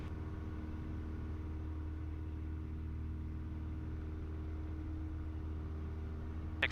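A Piper Archer's engine hums as a smooth, unbroken drone during the takeoff roll, heard from the cockpit. It stays moderately loud and constant with no talk, and a faint click sounds at the end.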